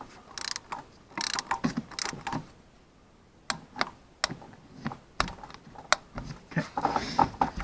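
Ratchet wrench loosening a spark plug on a 2004 Honda Odyssey, a series of close, crisp clicking bursts in irregular runs, with a short pause in the middle.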